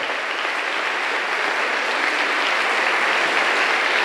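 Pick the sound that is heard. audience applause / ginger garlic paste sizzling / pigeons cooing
audience applause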